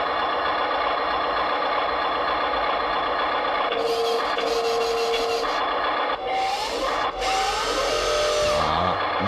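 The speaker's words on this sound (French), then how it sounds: "Le moteur." A small electric motor of an RC wheel loader whirs and rasps steadily with a buzzy, mechanical hum, shifting in pitch as it works, with a few higher whining tones layered in.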